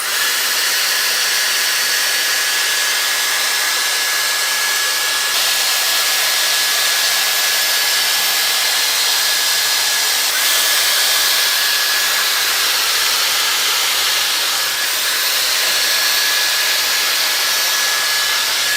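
A Dyson Airstrait hair straightening dryer blows steadily and loudly on curly hair for the whole stretch, a constant airy hiss with a thin high whine running through it.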